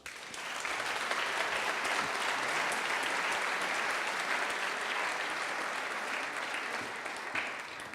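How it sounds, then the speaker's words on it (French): An audience applauds steadily at the official opening of a 2019 gala as Nicole Calfan is welcomed, a dense, sustained wash of clapping from a large crowd that continues evenly throughout. "Je vous demande d'applaudir et d'accueillir Nicole Calfan."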